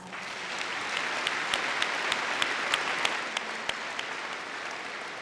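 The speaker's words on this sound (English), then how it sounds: "Let's give him a round of applause." A school assembly audience applauds at a Veterans Day assembly honoring the color guard and veterans, a broad, sustained crowd clapping with a few louder individual claps rising from the wash, rhythmic at times, in a large hall.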